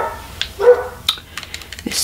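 A dog gives a few short, sharp barks and yips close by, irregular and quick, in a quiet room.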